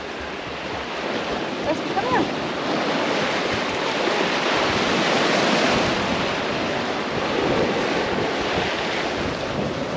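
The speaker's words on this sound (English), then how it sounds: "The swell is up here, the wind is up, it's unreal." Heavy ocean swell and strong gusting wind at the northern tip of Cape York, Australia, a continuous loud roar of surf buffeting the microphone with no clear breaks.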